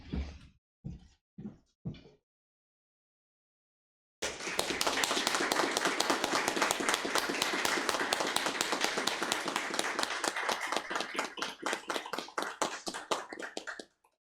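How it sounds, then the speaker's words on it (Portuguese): Applause for the fathers attending a municipal council session: a few sharp taps at the start, a short pause, then about ten seconds of dense, steady clapping from a room full of people that stops abruptly. "fizéssemos uma salva de palmas para os pais presentes aqui e também para aqueles que nos assistem"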